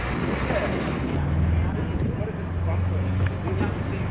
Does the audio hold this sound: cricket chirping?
no